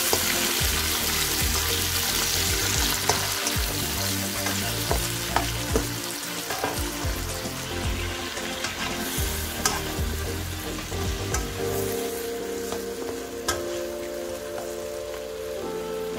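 Prawns frying for chow mein, a dense, loud sizzle with scraping and tossing sounds from stirring throughout, easing slightly near the end.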